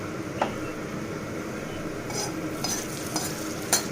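Keema ghee roast being stirred and mixed in a pan, a steady soft scraping and gentle sizzle with a few sharper spoon clinks against the metal, close and moderately quiet.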